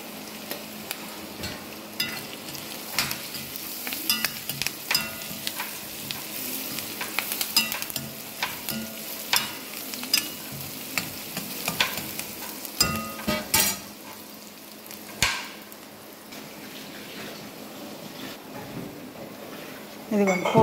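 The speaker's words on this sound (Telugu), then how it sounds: "ఇదిగోండి పోపు అయిపోయి తాలింపు అయిపోయింది కదా." Spices temper in hot oil for a bitter gourd fry, crackling and sizzling steadily with scattered sharp pops and the scrape of stirring, close and fairly loud, while someone talks intermittently over it.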